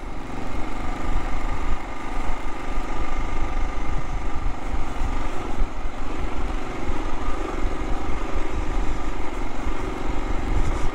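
A Kawasaki KLR motorcycle engine working in first gear on a slow climb up a switchback mountain road, a loud steady drone that holds constant throughout with no talk over it.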